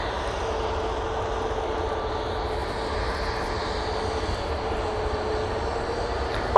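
An EasyJet airliner rumbles at Manchester Airport as a steady, broad engine roar that holds level and continuous from moderately near, with no voices.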